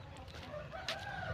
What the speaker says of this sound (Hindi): देख सकते हो गाइस ये मुर्गी